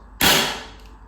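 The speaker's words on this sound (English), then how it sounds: "So here we go with the RTI Hush suppressor." A single shot from an RTI Prophet P3 sub-12 air rifle fitted with an RTI Hush suppressor: one sharp, close crack with a short decaying tail, alone without talk.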